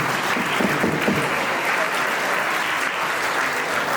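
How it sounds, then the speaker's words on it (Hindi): Enthusiastic clapping from an assembled audience at a school's model youth gram sabha, honoring its members; a loud, continuous wash of many hands beating together with no pauses. "जोरदार तालियां"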